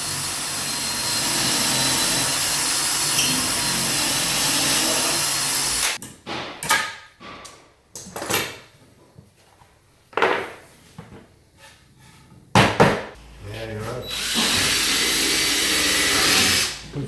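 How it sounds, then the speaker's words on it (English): A power drill with a pilot bit bores a pocket hole into wood, a loud continuous whirring drone that stops, followed by scattered knocks, clicks and handling noises, then the drill starts again and runs steadily to the end. "We finish off this hole with a pilot bit that allows us to enter into the secondary wood just a little bit easier."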